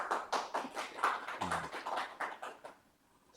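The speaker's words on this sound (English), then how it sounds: "A big round of applause to sir." Applause from a small audience for Dr. Pradip Kumar Bhattacharya: sparse, distinct claps in an uneven rhythm that thin out and stop near the end, fairly quiet, with no talking.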